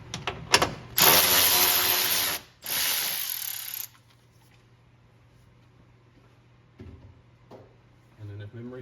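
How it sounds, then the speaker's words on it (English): Ratchet loosening a 13mm bolt in the driver-side engine bay of a 2010-2014 Ford F-150 Raptor, a few close clicking pulls followed by quiet, with faint sounds near the end. "all we should have to do is loosen our 13mm bolt here"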